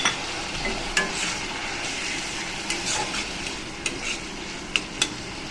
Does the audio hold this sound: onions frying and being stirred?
yes